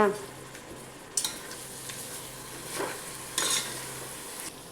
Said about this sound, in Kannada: ಮೊಸರು ಸೇರಿಸ್ಕೊತಾ ಇದ್ದೀನಿ ಮಿಕ್ಸ್ ಮಾಡ